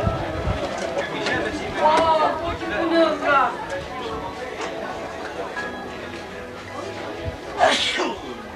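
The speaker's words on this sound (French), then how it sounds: "À vos souhaits." A single sneeze bursts out near the end amid a busy rural French market in 1994, with several people chattering and crowd hubbub running throughout.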